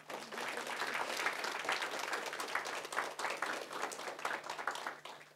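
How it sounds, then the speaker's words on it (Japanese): Audience applause at the close of a Suginami ward community meeting on free school lunches, steady dense clapping from a room of participants sustained throughout without talk. "お互いに拍手で終わりたいと思います"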